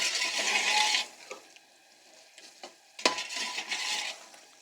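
Beef for yakhni pulao frying and being stirred in a pan, with a loud sizzle at the start, a quieter stretch, then a sharp scrape or clink of the spoon and renewed sizzling and stirring.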